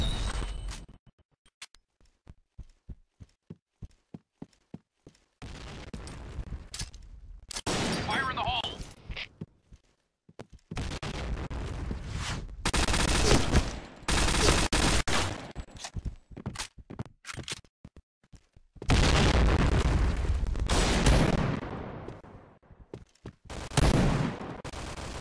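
Rapid bursts of MP7 submachine gun fire in the shooter game Point Blank, a string of sharp single shots and then longer loud automatic volleys with brief gaps, close and dominant, with footsteps in between.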